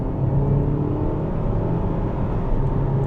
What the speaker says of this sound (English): It shifts actually pretty hard, and it actually goes right up to the red.